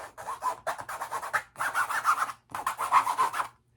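A brush scrapes paint across a canvas in quick rasping strokes, grouped into several close, dry bursts separated by brief pauses.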